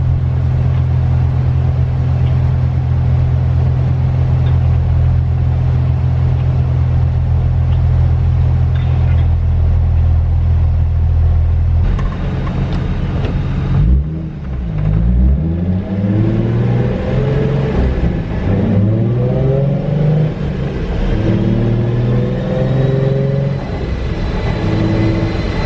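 A Nissan 350Z engine running on a Link standalone ECU, a steady low idle drone that shifts halfway through into uneven revving with rising and falling pitch sweeps, loud and close throughout.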